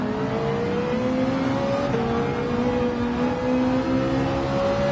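A race car accelerates around the Autopolis circuit in a daily race, its engine droning loud and continuous with slowly rising pitch, other cars close by and no talk.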